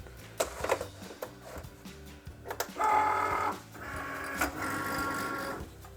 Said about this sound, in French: On va insérer la lame à pointe fine et on va lancer la découpe de chaque vinyle.